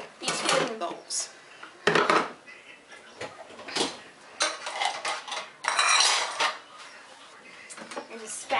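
Dishes, cups, ladles and silverware go into a household dishwasher, with clinking cutlery, clattering crockery and rack rattles arriving in irregular bursts, up close, between pauses.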